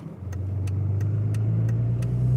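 A car fitted with a Banks Economind tuner drives along with a steady low engine drone that rises slightly in pitch, accompanied by regular faint ticking clicks about every third of a second.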